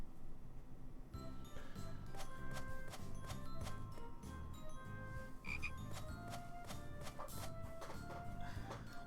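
A frog croaking in a video game, voiced by a voice actor imitating the sound, with repeated croaks over steady game music and clicky effects.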